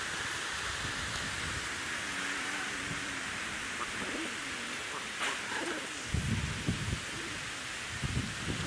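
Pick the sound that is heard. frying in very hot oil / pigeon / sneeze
pigeon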